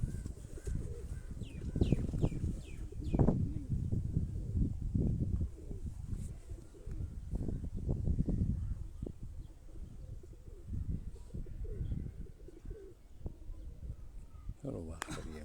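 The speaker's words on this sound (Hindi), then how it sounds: "ये सारे वही परवाजी कबूतर हैं" Flying pigeons coo softly in the background, with occasional chirps, beneath steady nearby talking in Hindi-Urdu.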